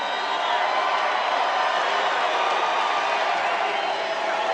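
A large crowd at a Donald Trump rally in Fayetteville, North Carolina, roars in a steady, loud wash of cheering and voices that holds without a break.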